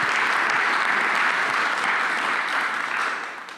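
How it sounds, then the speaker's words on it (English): Steady audience applause at a fusion safety conference livestream, following a talk on waste streams from possible fusion plants; dense, even clapping from a hall of listeners that tapers off toward the end, with no talking over it. "and a big applause."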